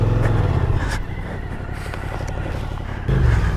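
A Suzuki V-Strom adventure motorcycle, stuck in deep sand, revs its engine hard. The rumbling is loud and close, with a rough steady drone that dips slightly in the middle and then surges again.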